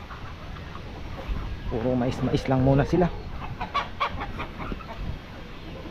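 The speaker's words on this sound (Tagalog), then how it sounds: "Ating mga manok dito," Chickens cluck and call close by over steady outdoor background noise while a person talks briefly.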